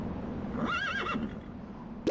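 A horse neigh from a toy horse puzzle, one clear whinny with a wavering rise and fall, moderately loud over a low steady hum, ending with a short squeak.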